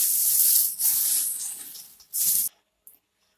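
Hands toss homemade namkeen snack mix with salt, giving dry, hissing rustles in steady bursts that pause and resume before stopping; close and fairly loud, with no talk.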